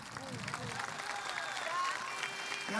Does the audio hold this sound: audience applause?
yes